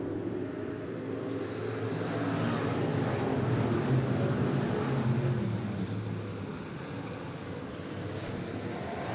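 At Sunset Speedway Park, IMCA stock cars thunder off a green-flag restart, their engines droning in a steady, dense roar that swells and then holds as the field races past.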